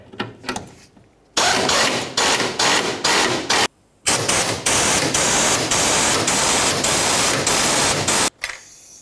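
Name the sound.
ratchet tightening fuel tank strap bolts on Nissan Titan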